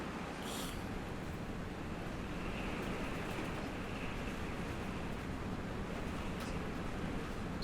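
Steady pouring rain drums outside a cabin in Farming Simulator, a dense, continuous hiss with no talking.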